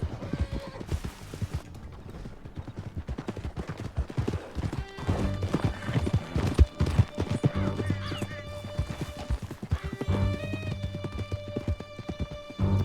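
A horse gallops hard in Red Dead Redemption 2, rapid rhythmic hoofbeats pounding over a musical score, with whinnies and neighs breaking through, loud and close throughout.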